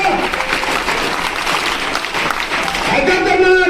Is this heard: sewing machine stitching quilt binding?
no